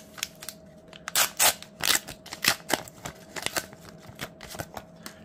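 AFLW Teamcoach 2023 trading card packs being torn open up close, a run of sharp crinkly foil rips and rustles in irregular bursts, loudest early on and then tapering into lighter crackles.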